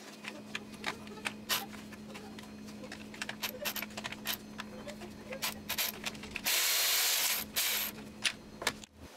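A ratchet removes a bolt behind the oil filter housing of a Chevrolet Cruze 1.8L: quick repeated close clicking strokes, with a brief burst of louder hissing rasp partway through.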